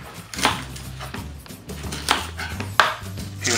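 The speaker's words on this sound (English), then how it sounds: "Now we're going to cut some vegetables. Let's start with red onion." A knife chops a red onion on a board in a few firm, uneven strikes, each a crisp thud-click over a low background hum, close and fairly loud, with no talk.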